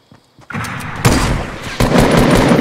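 Fortnite gunfire rings out in loud, close bursts of rapid shots, a quick cluster followed by sustained automatic fire with brief gaps, and no voices over it.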